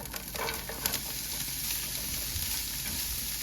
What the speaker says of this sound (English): I cooked all of the chicken just until it just browned on the edges. It's not fully cooked. I'm gonna go ahead and add the onion,